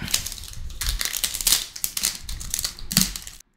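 A 2022 UFC Prizm Blaster trading card pack is torn open, a loud, close, crinkly rip with bursts of crumpling foil that stop abruptly.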